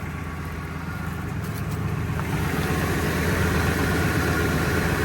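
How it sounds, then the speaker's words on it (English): A Ford F250 Super Duty with a 6.8L V10 idles steadily after rusty exhaust manifold stud repair, its exhaust giving a low, even rumble that holds close and constant throughout, with no talking. "Now the only thing we got is a nice sounding exhaust."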